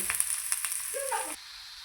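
Chopped onion fries in a hot pan for a homemade pasta sauce, giving a steady close sizzling hiss with faint clinks before it cuts to a quieter hush.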